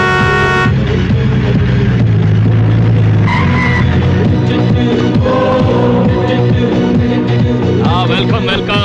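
Van arriving in a Telugu action film scene: loud engine roar with screeching, skidding tires and horn blasts over a dense, continuous soundtrack mix.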